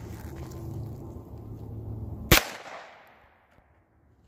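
A single loud, sharp 9mm 115 grain handgun shot fired at body armor, cracking out suddenly over a low outdoor rumble and ringing off in a decaying tail.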